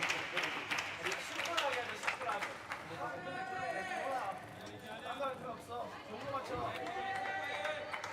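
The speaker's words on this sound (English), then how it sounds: "And now the Korean crowd getting into it a bit." Korean spectators cheer and call out during a Paralympic table tennis match at the Tokyo 2020 Games, a steady crowd roar with chatter running throughout.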